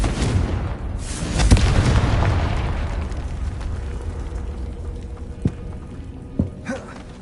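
A Confringo blasting spell detonates in a Harry Potter video game: a heavy, booming explosion that swells and slowly rolls off, followed by a few sharper pops and bursts that trail away over several seconds.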